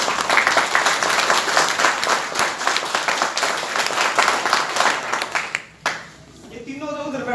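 Seminar audience in Rohtak clapping hard, a dense, loud, sustained burst of applause that breaks off abruptly near the end, followed by quieter room sound.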